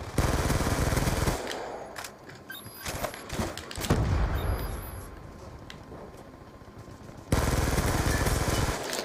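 Skorpion submachine gun in Black Ops 2 fires in rapid automatic bursts, a loud dense rattle at the start and end with scattered shots and thuds in between.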